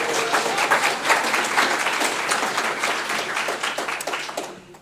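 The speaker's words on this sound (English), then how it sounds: "Can we give this lady a round of applause?" A lecture audience gives a round of applause for a woman in the room, moderate clapping that swells and holds briefly, then thins out and fades within a few seconds.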